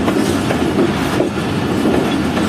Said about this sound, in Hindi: रेलवे स्टेशन को स्किप कर रही है ट्रेन हमारी।